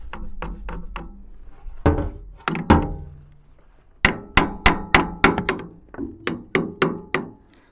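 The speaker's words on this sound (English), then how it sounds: "I can't even like tap with the hammer correctly." A hammer taps repeatedly on a metal pin on a Ford 3000 tractor, sharp clinking strikes in quick bursts with short pauses between groups, close and loud.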